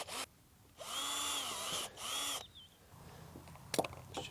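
A power drill with a 5.5mm bit whirs in two short bursts close by, spinning up and down, followed by quieter handling noises.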